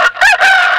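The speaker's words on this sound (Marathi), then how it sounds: "कोंबडा दिवसभर छपरावर बसे, कुणी पाहुणा आला की ओरडत असे" A rooster crows once, loud and close, a short bright call with a brief break before a drawn-out ending.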